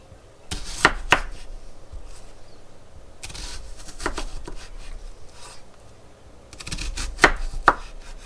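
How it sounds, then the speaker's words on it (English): A knife coarsely chops a hot white or yellow onion on a board, with three clusters of sharp, close chopping knocks separated by quieter stretches. "I'm just coarsely chopping this to go in the jar"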